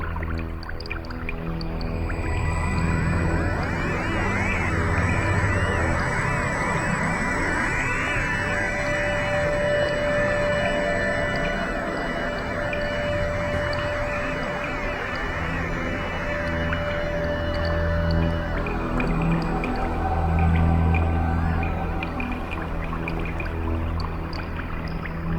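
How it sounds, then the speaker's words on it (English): Jellyfish Nebula astronomy data turned into sound as a dense, continuous patter of watery droplet-like plinks and tones, steady and fairly loud for about twenty-five seconds with no voices. "This is an audible representation depicting the data in the Jellyfish Nebula depicted as raindrop sound or water droplet sounds."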